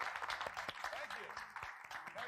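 Audience applause in the video game Steven Spielberg's Director's Chair, a faint, continuous patter of many hands clapping for a couple of seconds.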